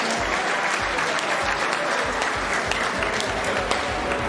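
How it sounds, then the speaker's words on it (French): Dense, sustained applause from a large audience fills the hall at the close of a match in the finals of the 2020 French robotics cup, steady and loud throughout with scattered louder claps and no speech. "Un tonnerre d'applaudissements."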